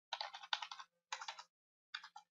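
Typing on a computer keyboard, three bursts of rapid, crisp keystrokes separated by short silences, close and clear in a quiet room.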